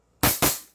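Two sharp, loud shots in quick succession from an AWC 7.0 Infinity airsoft pistol, each with a short decaying tail, crisp and close.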